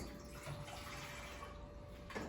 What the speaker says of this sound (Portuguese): a gente vai precisar de 2 copos de água. A gente vai adicionar eles em 2 panelas.